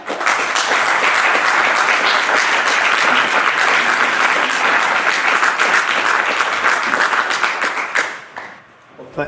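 Sustained audience applause welcoming lecturer Dr. Firestein at a lecture, dense steady clapping from a large crowd that holds loud for about eight seconds, then fades and dies away near the end.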